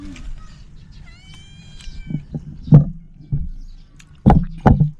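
A cat meows several times, short plaintive cries with some rustling and background noise between them.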